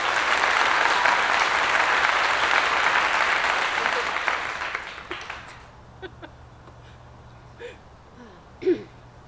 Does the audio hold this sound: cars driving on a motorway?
no